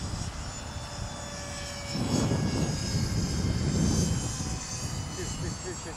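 A Hobby-Lobby MiG-15 RC model jet makes a flaps-down emergency landing, its faint engine whine and tonal hum holding steady, then swelling slightly mid-clip, with a person talking over it.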